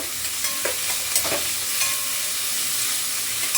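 Capsicum and tomato are sautéed in a pan, a steady soft sizzle with a few scraping stirs of a spatula near the start, heard close and alone without speech.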